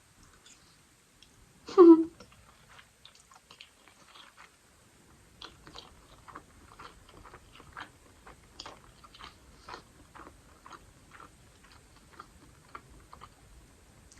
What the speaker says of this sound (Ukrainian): Зараз я думаю, я взагалі її жую